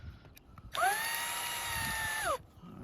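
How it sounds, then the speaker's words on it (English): A power drill drives a screw into a gutter guard, whirring at a steady high pitch for about a second and a half, then winding down, close and clear over quiet surroundings. "so let's get the drill in there."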